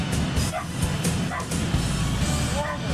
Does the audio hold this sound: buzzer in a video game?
no